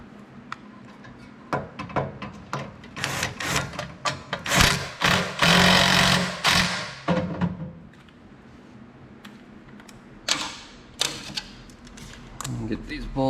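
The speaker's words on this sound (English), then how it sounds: "I'll get the tank bolted down, and then we'll get the air cleaner bolted back up" Bolts are fastened to secure the fuel tank on a Briggs & Stratton engine of an Agri Fab leaf vacuum, with irregular clicks, ratcheting and metallic taps close by, louder in the middle, and a voice speaking between them.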